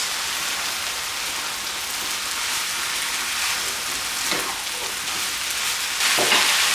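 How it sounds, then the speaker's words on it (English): Minced beef fries in a hot pan with jalapeños and chillies for samosa filling, a dense continuous sizzle close up, with bursts of spatula stirring and scraping toward the end. "we can now add in our mincemeat. Give it a good mix."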